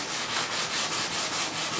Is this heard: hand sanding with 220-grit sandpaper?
yes